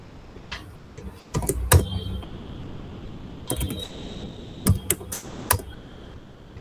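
Computer keyboard keystrokes entering a pip uninstall command for matplotlib: scattered, fairly close clicks in small clusters over a quiet room hiss, with pauses between bursts and no speech.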